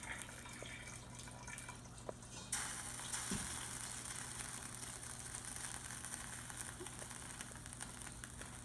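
Vegetable stock is poured onto venison shanks in very hot oil, and after a quiet start a sudden bright sizzle erupts and holds steady, crackling and hissing close up with no talking.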